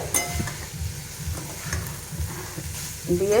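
Bottle gourd peel fries in a pan while being stirred, a soft sizzle under repeated scraping and clinking strokes in a steady rhythm, close by with no talking.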